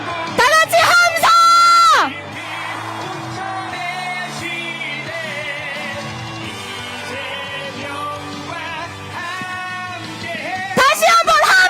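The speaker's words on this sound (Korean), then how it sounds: "다 같이 함성!" At an outdoor political campaign rally in Wonju, a large crowd shouts and whoops in loud bursts at the start and end, with amplified voices over music filling the stretch between.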